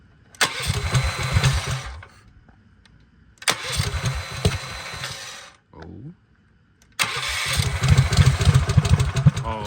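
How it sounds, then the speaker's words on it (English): Starter motor cranking the big block engine of a Baja Warrior mini bike, three loud whirring bursts separated by pauses, each failing to catch, with a brief mechanical clunk between bursts. "I have the starter hooked up, right? But not quite enough to start yet."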